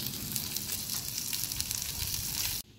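Food sizzles steadily on a grill mat, a loud, even hiss of frying that runs without a break and cuts off abruptly near the end.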